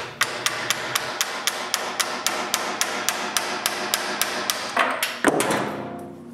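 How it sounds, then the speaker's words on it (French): Steady hammer blows knock a cone out of a wood lathe chuck, about two dozen sharp metallic strikes in an even rhythm, loud and close, with a few heavier clanks near the end. "puis avec un marteau, j'enlève le cône."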